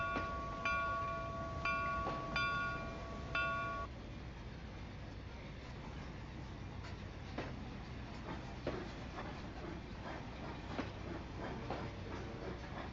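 A passenger train passes in the Trainz 2 railway simulator near Newark. A horn-like tonal blast sounds early on, then a steady rolling rumble continues with intermittent clicks and clatter as the cars go by.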